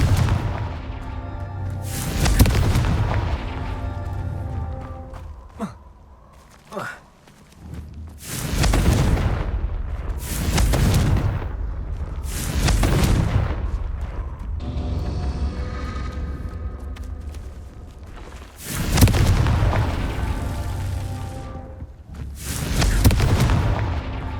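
Repeated Confringo blasting-spell explosions in the Hogwarts Legacy game, about six loud booming bursts roughly every three to five seconds, each with a crackling tail, standing alone without talk.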